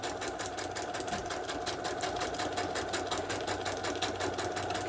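A sewing machine straight-stitches through coffee-dyed parchment paper, a steady close mechanical whir with a rapid rhythmic needle pulse throughout.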